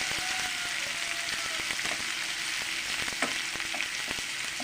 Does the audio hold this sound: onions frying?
yes